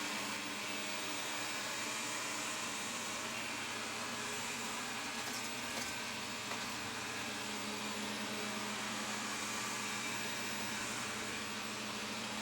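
A Proscenic M6 Pro robot vacuum cleaner runs indoors with a steady, loud motor whir and airflow hiss that holds even and unbroken throughout, with no talking.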